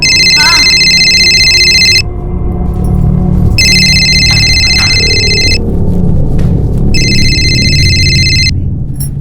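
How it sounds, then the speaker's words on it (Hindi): A phone rings in three long electronic bursts with pauses between, loud and near, over a low background hum. "सोनाक्षी, तुम्हारा फोन बज रहा है।"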